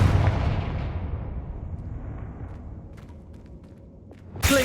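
Confringo blasting spell from Hogwarts Legacy goes off as a loud, booming explosion right at the start, then a long rumbling decay that fades over several seconds, with a sharp burst near the end.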